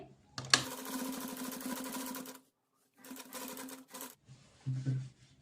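A sewing machine stitches the neckline of an umbrella frock in two bursts, a long run followed by a shorter one after a pause, with a quieter stretch of machine noise at the end.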